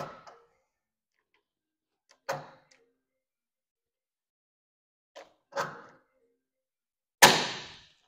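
A hand pop rivet gun sets an aluminum countersunk rivet, giving a few sharp isolated clicks and squeezes spaced by silence, ending in a louder snap as the stem breaks, close and with no talking.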